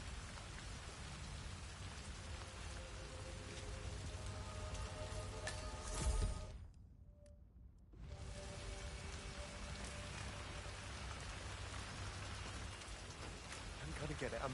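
Rain pours in the Hitman video game, a dense, continuous hiss that briefly drops away in the middle before returning at full strength.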